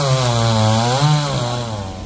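A chainsaw cuts through the trunk of a coconut tree at its base in sandy ground, a loud, close, sustained engine whine that rises and falls in pitch as it bites into the wood.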